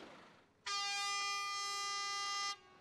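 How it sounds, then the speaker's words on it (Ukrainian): A truck's air horn blasts at a farmers' protest blocking traffic: one loud, sustained, steady tone held for nearly two seconds after a brief quieter lead-in, with no talking. "Найбільш розлючені протест озвучували клаксонами"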